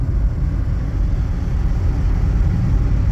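A 2024 Chevy Trax with a 3-cylinder turbo engine accelerates on the road, giving a steady, loud low rumble and road roar that stays even throughout, with no talking.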